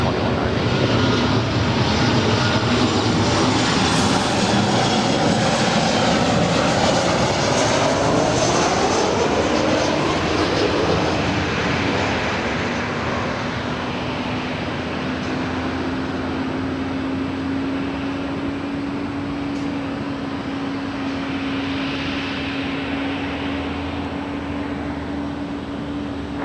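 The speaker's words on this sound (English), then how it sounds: "Our next arrival is Southwest Airlines. It's a 737." A Southwest Airlines Boeing 737-800 jet at LAX roars loudly and steadily close by, its engine noise sweeping in pitch as it passes, then settling into a sustained whine that fades slightly.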